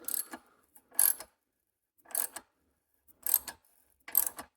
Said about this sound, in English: Hopefully we start cutting new threads.